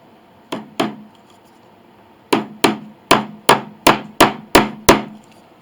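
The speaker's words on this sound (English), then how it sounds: "I just hammer these back into the bridge" Sharp hammer strikes as bridge pins are driven into the wooden bridge of an 1881 Steinway Model A piano: two blows, a pause, then a steady run of seven evenly spaced, close and loud taps.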